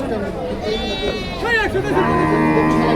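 Goats bleat in wavering, nasal cries, one after another, close up at a goat market in Tangail, with people chattering in the background.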